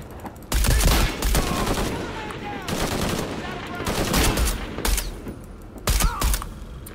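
Gunfire in the video game Shadow of the Tomb Raider, heard as repeated bursts of close, loud shots and rapid automatic fire coming in uneven clusters over several seconds, with brief gaps between the volleys.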